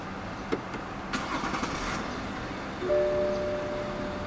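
A 2014 BMW X5 xDrive30d diesel is started with the push-button start stop control, giving a soft click, a brief cranking whir and then a settling idle hum, moderately quiet and close with no talk.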